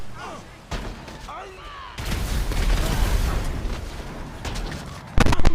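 A large in-game explosion in GTA 5 erupts with a sustained loud rumbling roar, after faint bits of speech, ending with another sharp burst.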